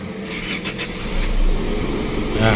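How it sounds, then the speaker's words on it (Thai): The diesel engine of a 2013 Isuzu D-Max Hi-Lander 2.5 pickup cranks and turns over, then settles into a steady, loud idle close by. "เครื่อง ฟิตสตาร์ทติดง่ายเลยนะครับ"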